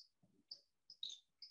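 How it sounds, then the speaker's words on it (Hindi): Faint, sparse bird chirps sound outdoors in cool, cloudy weather among green trees, a few short high tweets spaced apart against near silence. "चिड़िया की आवाज आ रही है।"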